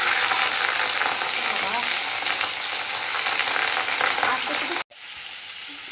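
Food fries loudly in a pan in a home kitchen while it is stirred, a dense close sizzle with scraping that cuts out abruptly near the end, then resumes more faintly.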